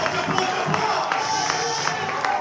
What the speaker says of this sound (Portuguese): Quem puder aplaudir, aplaude.